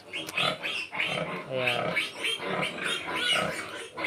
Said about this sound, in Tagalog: Tapos ito rin, baboy ng papa ko to mga boss.